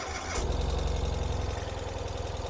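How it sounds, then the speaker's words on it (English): A 2022 Ural Gear Up Taiga motorcycle with fuel injection fires up after a brief starter whir, then settles into a loud, steady, pulsing idle close by. "all we have to do is hit the starter"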